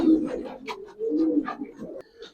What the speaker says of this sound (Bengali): এখানে যে কবুতরগুলো দেখতে পাচ্ছেন এগুলো তো থাকবেই